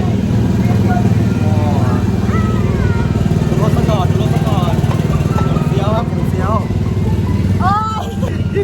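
A convertible car drives through Paris with a steady engine hum and road noise, while a person talks over it throughout.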